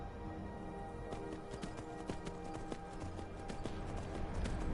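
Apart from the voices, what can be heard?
horse hooves clip-clopping in Skyrim video game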